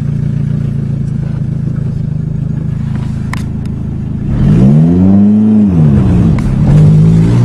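A car with a 5-speed manual gearbox, driven by a learner, idles with a low steady rumble. It then revs up loudly, rising and falling in pitch, and settles into a strong rumble, with no talking over it.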